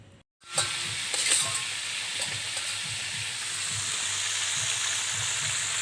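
Food seasoned with sour lime and salt sizzles steadily in a hot pan over a fire at an oil palm plantation, a loud, continuous crackle starting after a brief pause with no talk over it.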